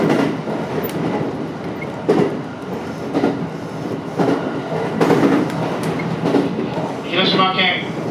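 JR West 227 series rapid City Liner train rolling along the Sanyo line, a steady rumble with rhythmic wheel clacks at regular intervals, heard from inside under a recorded onboard announcement.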